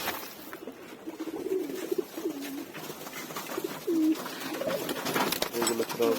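Pigeons kept in a loft and fed on rice paddy coo in short throaty bursts, several birds overlapping at moderate distance against a soft background hiss, with occasional faint speech-like murmurs.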